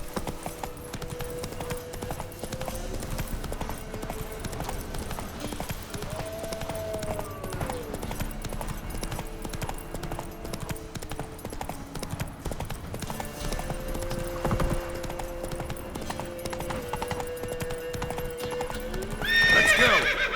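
Roach, the horse in The Witcher 3, gallops with continuous rhythmic hoofbeats over a sustained musical score, with occasional snorts and whinnies. A burst of louder activity comes near the end.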